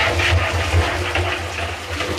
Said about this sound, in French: Donc on y met l'eau en premier